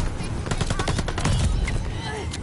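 Automatic MP-40 submachine gun fire in Call of Duty: Vanguard, a dense rapid burst of shots close up that fills most of the moment before tailing off.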